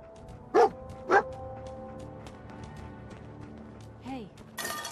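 A dog barks in Fallout 4, two sharp close yips early followed by a softer whimpering call near the end, over quiet game ambience and hum, with a burst of noise at the close.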